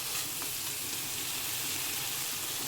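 Eggs being stir-fried in masala give off a brief, even, close sizzle of hot oil with soft stirring beneath it.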